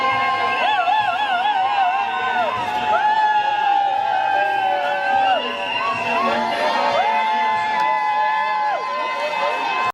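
Families cheer with shouts of joy and high whooping yells, a dense crowd of excited voices that stays loud and continuous throughout, with cries rising and falling over one another.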